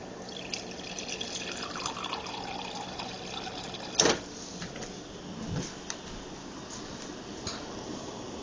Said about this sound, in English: Let me just get a little bit more water.